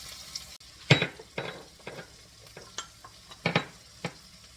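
Chopped onion frying in a pan until golden brown, with a steady sizzle broken by a series of sharp spatula scrapes and stirring clinks, close and fairly loud.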